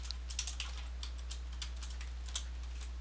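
Quiet, steady clicking of a computer keyboard as someone types, light rapid keystrokes with an occasional sharper tap, close by over a low constant hum, with no one speaking.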